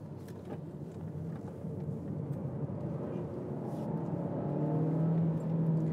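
A Nissan car driven through corners, its engine drone steadily building and growing louder over several seconds, heard from inside the cabin.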